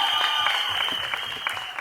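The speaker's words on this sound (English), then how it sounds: "I want to give a big round of applause." Steady clapping from a crowd at a song launch event in Mumbai fills the whole stretch, a dense, continuous patter of many hands at moderate loudness.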